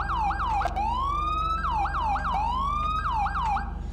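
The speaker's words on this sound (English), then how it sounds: "So it sounds the second manual siren tone." Manual police siren tone from GTA V with the LSPDFR mod: a loud, close, continuous electronic wail that sweeps up and down in quick yelping cycles and repeats steadily without pause.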